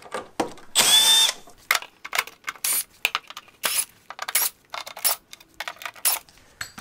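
A power tool backs six screws out of the foot plate of a Concept 2 rowing machine: short, close, loud whirring bursts repeat with brief pauses between them, and no one speaks.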